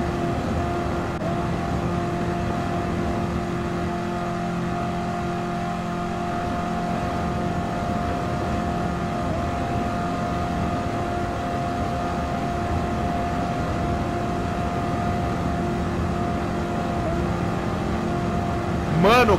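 A 1970 Plymouth Superbird with 848 horsepower racing in Gran Turismo 7: a steady, droning engine at high revs holds throughout, with faint speech beneath.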